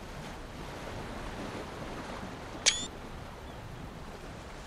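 Ocean waves and water in Uncharted 4, a steady soft wash of surf and breeze at moderate distance, broken once by a brief sharp click.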